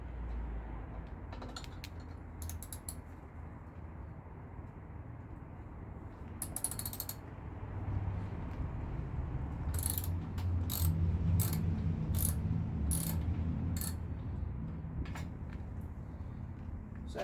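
Bolts are worked loose on a petrol pressure washer, with a faint ratchet clicking in short repeated bursts over a low steady background hum.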